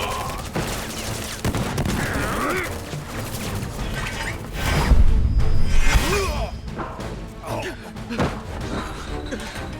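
Enemy soldiers fire guns in Final Fantasy VII Remake, making scattered cracks and clattering impacts amid slams and thuds. Someone talks over the steady background battle noise.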